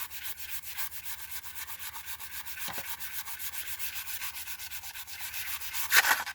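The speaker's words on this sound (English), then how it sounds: "This side I will scrape off a little bit more because it's going to connect to that other side." Rhythmic, close scraping of journal pages, a soft dry rasp repeating in quick steady strokes throughout, fairly quiet and alone.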